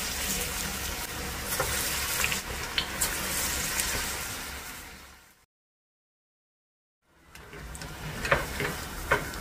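Spinach vadai dough balls deep-frying in oil, a dense bubbling sizzle heard close, cutting to a few seconds of silence before the frying resumes with crackling bursts.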